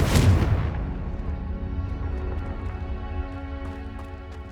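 A Confringo blast spell cast in Hogwarts Legacy lands as one loud, booming explosion at the start, then a rumbling tail with crackling debris and a low ambient hum.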